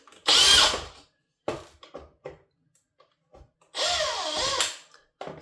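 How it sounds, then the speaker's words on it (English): An electric drill whines in two short bursts loosening screws on a robot vacuum, with clicks and light handling noises in between, close up and fairly loud. "I'm just going to quickly speed it up by using my drill."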